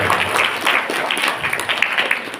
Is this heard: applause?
yes